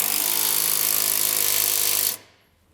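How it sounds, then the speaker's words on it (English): An 18 mm socket on a power tool snugs a bolt back down on a 2021 GMC Sierra 2500 truck during a TorkLift tie-down install, a loud, close, continuous rattling whir that stops abruptly after about two seconds. "we'll use the 18 that we used to remove the factory bolt to"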